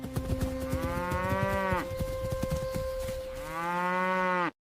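Several cows moo loudly in two long, drawn-out calls separated by a short gap, with thumping and clattering noises during the pause.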